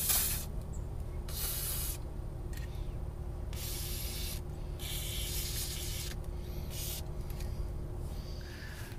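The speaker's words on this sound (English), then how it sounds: "now that we've hit all our joints with either grease or silicone spray" WD-40 Specialist silicone spray hisses in short bursts onto ATV suspension joints, about half a dozen close, sharp sprays separated by brief pauses over a low steady background hum.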